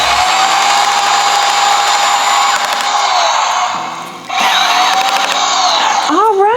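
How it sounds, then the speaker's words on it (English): A steady, loud motorized whir runs almost continuously, dipping briefly before resuming, like a power drill spinning with a screwdriver bit. "we had our drill with a screwdriver tip to help us for faster spinning"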